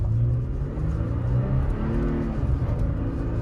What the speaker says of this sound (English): no, this engine runs.